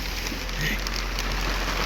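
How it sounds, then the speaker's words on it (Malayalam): Light rain begins falling at a house construction site in Kollam, Kerala, making a soft, steady hiss of drops on surfaces with no talking. "മഴ ചെറുതായിട്ട് പൊടിഞ്ഞു തുടങ്ങി"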